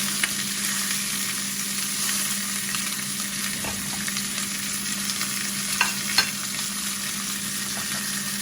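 Pork chops fry in a wide pan with only a little oil, giving a steady, close sizzle with a few sharp pops and clicks over a low constant hum.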